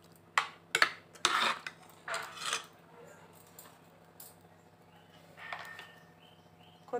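A ladle scraping and knocking against a pot while cooked dal with leafy greens and tomato is mashed and stirred, a few sharp metallic clinks and scrapes in irregular bursts over a low background hum.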